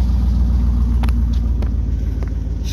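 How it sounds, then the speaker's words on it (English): A truck engine idles steadily outdoors while warming up on a chilly morning, a close, constant low rumble with a few faint clicks and no talking. "Truck is warming up."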